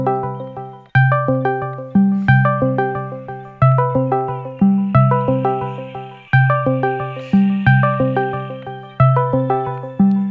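A looping electronic phone ringtone in a video game repeats its plucked, bell-like notes in a steady rhythm, loud and clear with nothing else over it.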